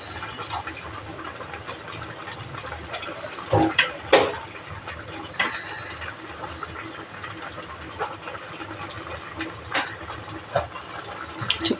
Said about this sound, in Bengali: ডাবলিটা একটু সিদ্ধ হওয়ার পরে যে আমি আলুটা দিচ্ছি আলুটা আবার কিছুক্ষণ সিদ্ধ হোক